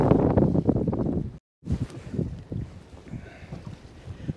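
Gusty wind buffets the microphone with low rumbling bursts while fishing on the Danube, cutting out briefly before blustering again near and steady.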